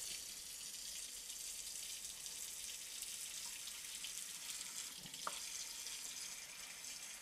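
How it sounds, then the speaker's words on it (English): Water runs steadily from a sink tap into a pan used for soaking a potted lemon cypress conifer, with a continuous hissing flow and a faint clink partway through. "filling the pan with water"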